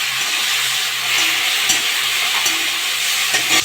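Steady, loud sizzle of tomato frying with garlic, ginger and onion in a pan for a potato and cabbage dish, with occasional soft knocks from stirring.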